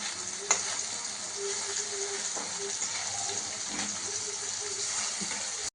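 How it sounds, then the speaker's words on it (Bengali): Pieces of chhena being deep-fried for chhanar dalna, a steady close hiss of bubbling oil with light crackles running throughout, no voices. "এখন আমি ভাজছি, সবগুলোকে ভেজে রেখে দিচ্ছি"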